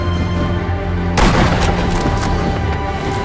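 A loud, sudden rifle report from the Sniper Elite V2 game breaks over a steady background hum, followed by a ringing, crackling tail and scattered faint impacts.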